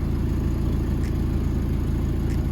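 Steady low engine drone from a Mazda NA Miata running on its old exhaust, a continuous rumble held at even loudness throughout, outdoors in the cold with no talking.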